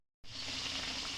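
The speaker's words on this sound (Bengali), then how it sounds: "আলু ভাজা" Potatoes frying in a pan, a steady hissing sizzle that starts abruptly after a brief silence and continues evenly, faint and alone.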